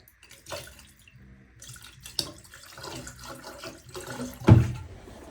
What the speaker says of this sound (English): I'll put some antifreeze in the shower.